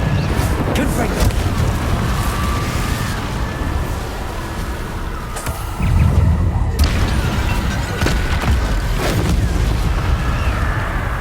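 Fiery spell blasts and booming impacts erupt during combat against Inferi in the video game Hogwarts Legacy, loud and dense over a continuous rumbling game soundscape, with a heavier burst about midway.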